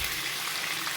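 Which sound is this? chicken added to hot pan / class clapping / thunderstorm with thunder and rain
chicken added to hot pan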